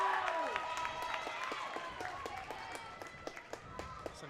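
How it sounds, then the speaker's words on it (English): A high school girls basketball crowd in a gym cheers and claps after a made basket, a noisy burst that fades into scattered applause and sharp sneaker squeaks on the court as play goes on. "Centuarus crowd really excited about that one."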